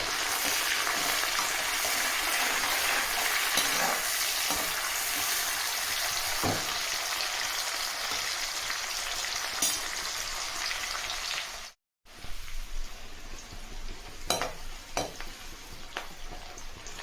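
Onions with curry leaves fry in a pan for a prawn and gongura curry, a continuous loud sizzle broken by spatula stirring scrapes and a brief cut partway through, with no voices.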